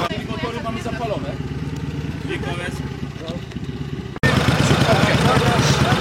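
Several motorcycles idling together at a gathering, a continuous close rumble with engine clatter, jumping suddenly louder partway through, with people talking over it.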